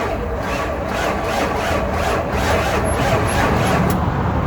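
A 1998 GMC Sierra engine cranks over with a rapid, rhythmic churning that keeps an even pace throughout, loud and close-up with no speech.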